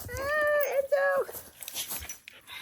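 A dog whines in two drawn-out, rising whimpers near the listener, followed by faint shuffling and small movement noises in a quiet room.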